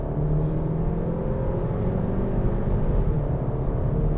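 Cupra Ateca SUV accelerating hard, a steady, loud engine rumble with a rising whir that holds at full strength throughout, heard from inside the car with no voices.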